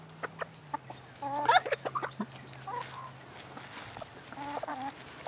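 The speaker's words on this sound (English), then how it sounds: "Watch these chickens jump." Chickens cluck and squawk close by while jumping for pieces of bread, scattered bird calls over a quiet outdoor background with a low steady hum.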